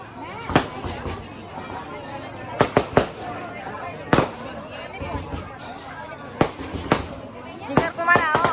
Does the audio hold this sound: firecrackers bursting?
yes